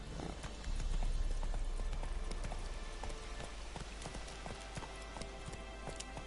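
Hooves of Roach, a horse in the video game Witcher 3, clip-clopping at a steady trot, fairly close and moderately loud, with no talk over them.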